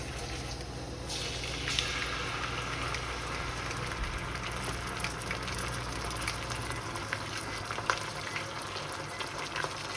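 Ginger garlic paste fries in a pan for beef yakhni pulao, a soft continuous bubbling sizzle with a few faint clinks, no voices.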